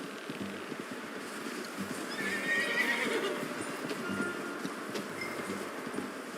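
In a video game, a horse whinnies clearly near the middle while its hooves clip-clop steadily underneath, against faint ambient background.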